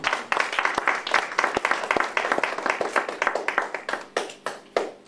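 Church congregation clapping in a quick, steady rhythm at a French-language evangelical sermon, loud and close, thinning toward the end into a few spaced claps.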